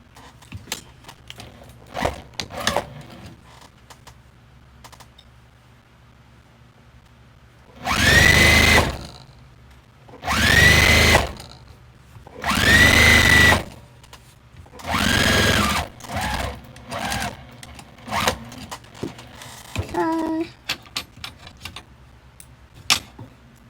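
A sewing machine stitches a quilt-as-you-go scrappy tote bag in four loud, steady bursts of a few seconds each, separated by short pauses and lighter handling clatter, with no talking.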